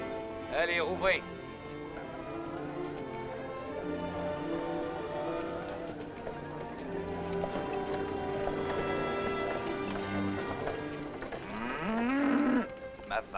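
A cow moos several times, long low bellows close by, with faint clatter and shuffling around it.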